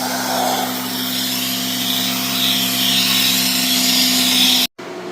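A spray drone sprays soapy foam in a steady, loud broadband hiss with a constant motor hum underneath, running continuously and cutting out abruptly near the end before resuming briefly.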